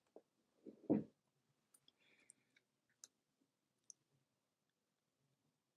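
Sparse, quiet clicks from a computer mouse on a desk, a few single sharp taps spaced apart, with a brief muffled thump near the start and otherwise near silence.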